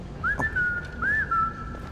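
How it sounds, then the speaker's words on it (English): A character whistles in Skyrim, two clear rising-and-falling whistle phrases in quick succession, moderately loud over quiet game ambience with no talk. "Thanks for whistling once I've seen you"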